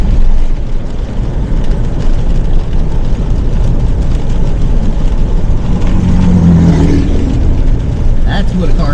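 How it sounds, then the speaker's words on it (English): A car with its catalytic converter stolen runs loud and rough, a harsh rumbling roar with a rising rev near the end, heard over a voice speaking. "That's what a car sounds like when somebody steals a catalytic converter."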